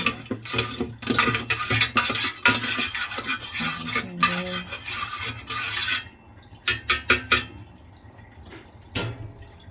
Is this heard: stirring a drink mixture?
yes